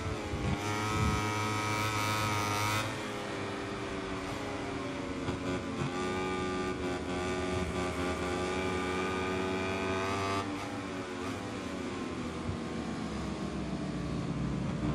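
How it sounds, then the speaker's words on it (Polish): Suzuki MotoGP race motorcycles accelerating in MotoGP 21: a sustained, loud high-revving engine whine that climbs in pitch and shifts gear, continuous for the whole stretch, with no talk. "Rozpędzamy się. Te Suzuki naprawdę są mocne tutaj."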